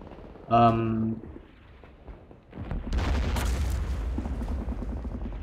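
Booming mortar fire in Men of War Online, a German versus US battle: a sharp blast early on, then a sustained rumble of distant explosions and gunfire filling the back half, with a voice talking over parts.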